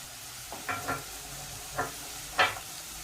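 Chopped chillies fry in a pan of oil for a mushroom curry, giving a low steady sizzle broken by a few short stirring scrapes and bursts of spatter, fairly close, with no voices.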